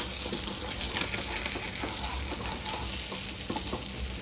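Sardines frying in a pan make a continuous crackling sizzle, dense and even throughout, with small pops scattered across it and no talking.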